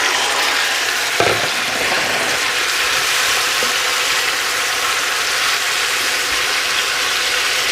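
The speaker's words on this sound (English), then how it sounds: "it's been about a minute that the garlic's been cooking away, so we're going to add our wings in there now." Chicken wings frying with garlic in a pan, a dense continuous sizzle with a brief clatter near the start and faint stirring noises, no speech.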